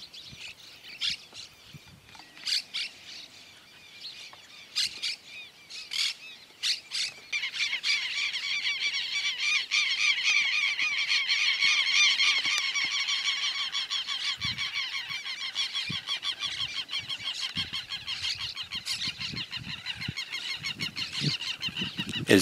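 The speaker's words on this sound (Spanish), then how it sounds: "Los loros cortan el tallo de la planta y buscan un posadero para comer las semillas." A large flock of cotorras (parrots) feeding on oat crops near Esperanza, Santa Fe, Argentina: scattered harsh squawks build into a dense, continuous chorus of raucous chattering calls, with no voices.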